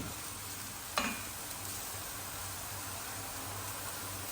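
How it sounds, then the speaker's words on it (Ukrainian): A steady sizzle of carrots frying in a pan, with a brief clatter early on as something is stirred, and no voices. "І зараз підсмажуємо морквочку."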